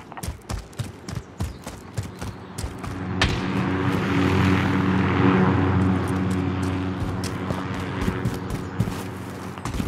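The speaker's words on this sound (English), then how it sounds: "Friendly VTOL on station for overhaul." In a Modern Warfare match, a friendly VTOL aircraft passes overhead, its engine roar swelling and fading beneath sharp clicks and footsteps from the game.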